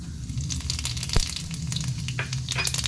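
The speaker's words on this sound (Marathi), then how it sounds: "एका कढईमध्ये तेल तापत ठेवलेले आहे, त्याच्यामध्ये मी आता हे थोडे जिरे घेतले ते घालत आहे" Cumin seeds crackle and sizzle in hot oil in a wok, a steady close fry with small pops and a sharp tap partway through, no voices.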